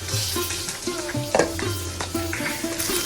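Rohu fish curry with beans and potato gets stirred in a pan, a spoon scraping and clinking in quick strokes over a steady oily sizzle, close and clear with no talking.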